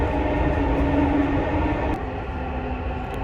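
A Dubai Metro train runs through an underground tunnel, giving a steady, close rumble and whine that eases slightly near the end, with no talk.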